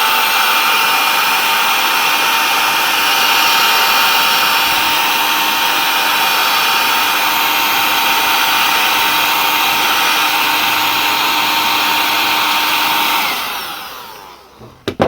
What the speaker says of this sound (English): Heat shrink that again around it with a gun,